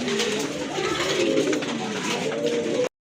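Pigeons for sale, including big Gopalganj pigeons, coo steadily in a dense overlapping chorus, close and continuous with no talk over them.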